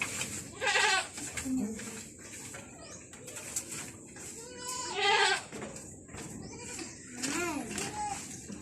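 Goats on a Philippine farm bleating in several loud, wavering calls spread across the moment, with bird calls and voices mixed in the background.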